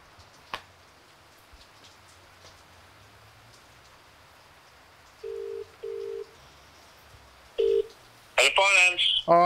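Touch-tone phone keypad beeps sound as a number is dialed to make a payment: a short tone, a second, then a third after a pause, over faint background hiss, before a voice starts talking at the end.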